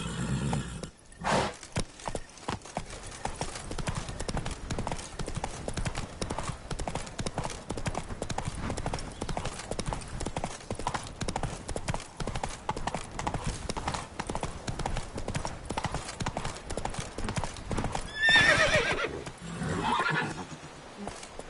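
The horse Roach gallops in The Witcher 3, with rapid, steady hoofbeats throughout, a loud whinny near the end, and a voice briefly calling out.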